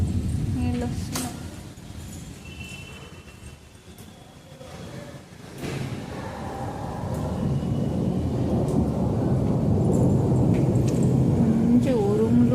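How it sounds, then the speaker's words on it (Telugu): Thunder rumbles deep and heavy through a steady roar of heavy rain, which swells louder in the second half, with a few faint crackles and no talk. "మంచి ఉరుములు ఉరుములు మెరుపులు."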